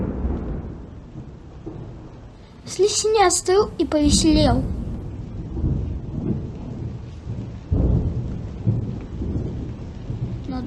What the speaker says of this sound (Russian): Начался дождик.